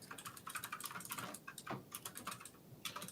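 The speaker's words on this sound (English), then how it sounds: "it's got like knockoff Cherry MX Blue key switches in it or whatever" Rapid clacky typing on a mechanical keyboard fitted with knockoff Cherry MX Blue switches, a steady stream of sharp close keystrokes with no talking.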